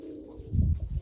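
Poltava white pigeons coo in a flying-breed dovecote, giving a brief, soft, low cooing phrase close by.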